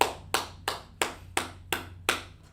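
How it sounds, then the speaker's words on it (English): A class finishing a lesson claps together in a slow, steady rhythm, seven sharp evenly spaced claps at moderate loudness with no talking. "Y'all clap it up."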